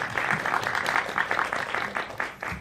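An audience at a Seoul independent film festival screening Q&A claps steadily, a dense patter of many hands filling the room at moderate loudness for a couple of seconds.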